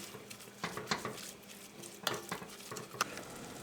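Diced onions and carrots sweating gently in a pan, a faint low sizzle beneath intermittent spoon scrapes and light clinks against the pan, close by and with no talking.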